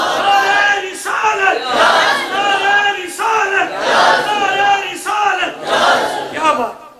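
Large crowd at a religious gathering chanting slogans in loud, rhythmic unison, several repeated chant phrases with brief pauses between them, filling the space.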